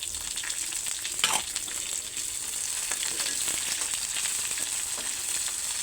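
Onions with bay leaf, cumin, fenugreek, nigella and mustard seed frying in a pan, a steady close hiss and crackle of oil running throughout, with a brief stir-like scrape near the start.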